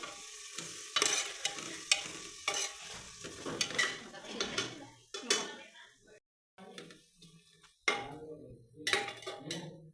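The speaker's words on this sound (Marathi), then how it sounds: "कांदा आता थोडासा ब्राऊन होईपर्यंत परतून घ्यायचा." Onion sautéing in a pan as it browns, stirred with a metal spoon: irregular scraping and clanking strokes over a light sizzle, with a short pause before the stirring resumes.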